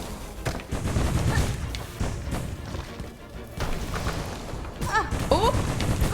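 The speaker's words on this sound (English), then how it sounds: "Oh, I forgot about the explosions." Repeated explosive blasts and bursts from a boss fight in the video game Silksong, loud bangs clustered across the clip with a faint voice under the noise.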